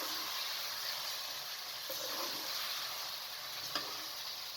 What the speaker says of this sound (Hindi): अब आप इसके अंदर भिंडी को शामिल कर दें। हल्के हाथ से आपने चम्मच चलाना है